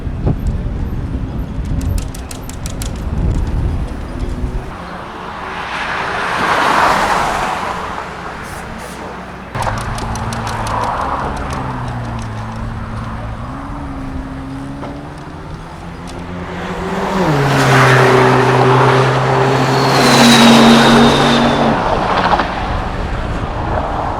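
Sports cars at a Goodwood track drive past one after another, their engines rising and falling as they approach and recede, growing louder toward the end, with brief crowd or outdoor noise around them.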